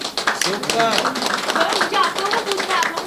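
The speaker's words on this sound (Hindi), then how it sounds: "एक बार सारे ही टीम members के लिए जोरदार तालियां हो जाए" An audience claps for the song team at a music video launch event. The clapping runs throughout under prominent overlapping talk and voices.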